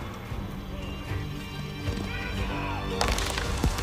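Horses galloping and neighing in the Age of Empires 4 video game during the siege of Kazan, rumbling hooves and battle noise with a loud burst near the end, under a commanding voice.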